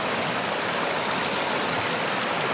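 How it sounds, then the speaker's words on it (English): A small spring cascades through a little waterfall into a river in the northern Yukon wilderness, a close, loud, unbroken rush of falling water with no voices. "this is that little spring that comes out and kind of cascades back into the river through this little waterfall"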